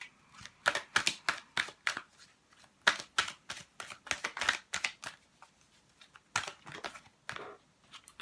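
Angel answer cards shuffled by hand: quick, crisp riffles and slaps in irregular bursts with short pauses, close and fairly quiet.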